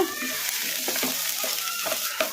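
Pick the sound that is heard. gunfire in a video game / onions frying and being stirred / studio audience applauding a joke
onions frying and being stirred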